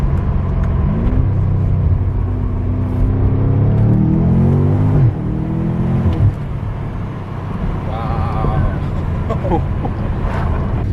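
A BMW M5 engine heard from inside the car pulls hard under throttle, rising in pitch through the gears, loud and continuous with a short voice over it.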